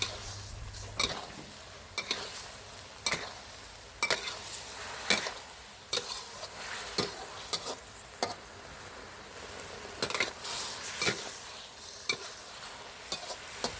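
Egg tofu and long beans stir-fried in sauce in a hot pan, with steady sizzling broken by regular sharp spatula scrapes and clanks against the pan, close and fairly loud.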